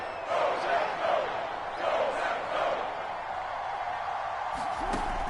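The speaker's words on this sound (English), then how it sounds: "the crowd getting into it as we come up on a big 3rd down" Stadium crowd noise in a video game American football match, a steady broad roar swelling in waves before a big third down, with commentary voices layered over it.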